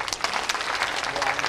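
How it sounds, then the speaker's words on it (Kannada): An audience gathered for a programme held in a cremation ground claps in a brief, busy patter of many hands, fairly close and even, with voices mixed in. "ನಿರ್ಜೀವ ಅಂತ ಹೇಳಿದವ್ರು ಈ ಚಪ್ಪಾಳೆ ತಟ್ರಿ"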